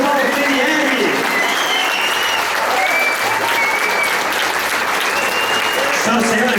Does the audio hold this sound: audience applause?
yes